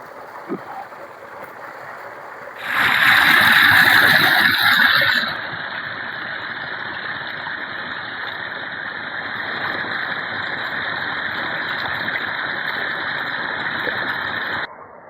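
A tube well water pump motor hums steadily throughout, joined for a few seconds by a louder rushing gush of water before settling back to a constant drone.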